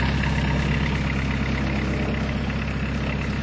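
Old diesel van engine idling just after a cold start, a steady loud low-pitched chugging rumble with an even rapid knock, close by and alone.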